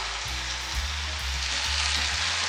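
Zarda sweet rice is gently stirred in a hot pot, giving a steady sizzle with soft low scraping and clunking strokes throughout, with no voices.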